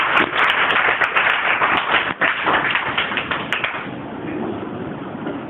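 An audience claps to welcome the principal on stage at a school gathering, a dense, steady round of applause that thins out toward the end.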